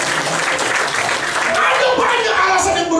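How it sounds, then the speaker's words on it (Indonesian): A church congregation applauds a child, a loud and dense burst of clapping from many hands nearby, with voices rising through it. "Berikan tepuk tangan buat anak kita."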